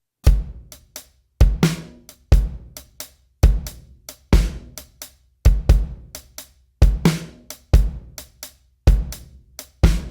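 Drum kit playing a shuffle groove at a slow tempo, steady repeating pattern of kick, snare backbeats and hi-hat strokes, close and clear with no talking.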